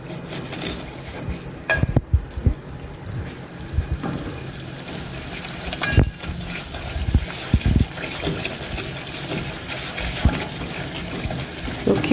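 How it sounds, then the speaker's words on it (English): Banana bread mixture with sugar stirred in a pan over low heat, repeated scraping and sloshing strokes with occasional sharper knocks of the spoon against the pan, steady and fairly close. "So keep on stirring"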